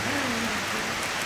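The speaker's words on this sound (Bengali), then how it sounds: "বৃষ্টি মুষলধারে বই যেহেতু ঘূর্ণিঝড় উঠছে" Heavy rain falls during a cyclone with wind blowing, forming a steady, unbroken wash of noise with no talking.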